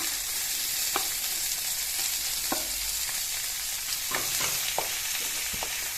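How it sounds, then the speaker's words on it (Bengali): Onions frying in a pan for a traditional Assamese dish, a constant close sizzle with occasional sharp spatula taps and stirring scrapes, no voices. "মোৰ দুটাৰে পিঁয়াজখিনি মই ভাজি ল'ম"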